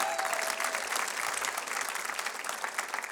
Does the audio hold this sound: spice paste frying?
no